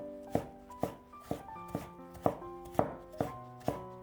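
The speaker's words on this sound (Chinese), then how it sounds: "再切成细丝" Knife chopping carrot into thin strips on a cutting board for meat bun filling, with about ten sharp, evenly spaced chops in a steady close rhythm, alone without talk.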